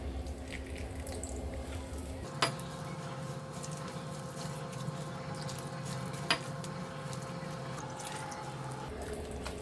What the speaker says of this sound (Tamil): இது கூட கொஞ்சம் தண்ணி ஆட் பண்ணிக்கலாம்